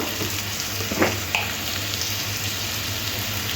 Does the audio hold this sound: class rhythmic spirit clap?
no